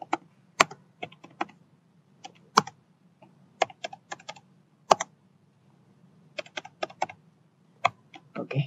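Keystrokes on a computer keyboard entering a 16-digit card number, close and crisp, in uneven bursts of clicks with short pauses between groups, over a faint low hum.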